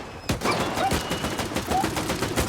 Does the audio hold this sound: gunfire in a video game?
yes